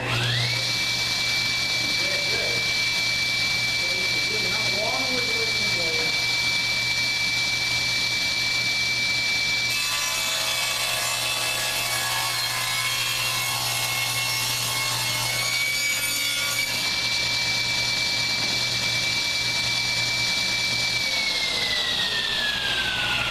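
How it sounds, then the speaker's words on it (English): A power saw spins up to a steady high whine, cuts through a wooden board for a scarf joint on a sled for several seconds with a rougher buzzing, then runs on and winds down, loud and close. "I can turn my saw on"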